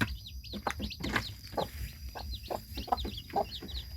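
Pradu Hang Dam native chickens feed in a brooder pen built from an old washing machine, with soft clucks and brief chirps scattered over steady low farm background noise, fairly close and moderate in level.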